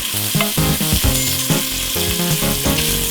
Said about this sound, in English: cook your dry cured bacon